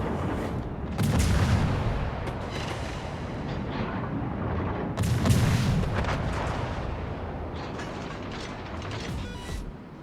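Torpedo explosions in a naval warship video game, heavy booming blasts rising twice over a continuous rumbling roar of battle, loud and dense with no voices.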